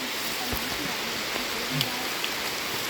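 Rain falls steadily during the rice-farming season while seedlings are being loaded onto a truck, a continuous hiss with a few soft knocks and thuds close by.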